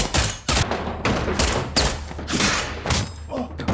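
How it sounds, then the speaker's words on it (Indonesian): Gunfire from an action film cracks out in a rapid series of loud bursts and thuds with short gaps between them, close and dense, and no speech over it. "Honda tertembak dan Honda pun harus berakhir dicincang sama Jeongso"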